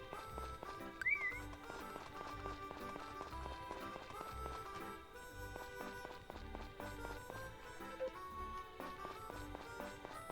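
Horse from the farming game Friends of Mineral Town, heard as steady clip-clop hoofbeats and running steps, moderately loud under layered game music with no talking.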